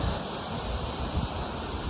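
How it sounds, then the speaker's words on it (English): A steady broadband roar of water rushing from a 40 to 50 foot waterfall cascading near the ocean shore in Alaska, continuous and fairly close, with wind buffeting the microphone. "fewer even ever hike back to this waterfall"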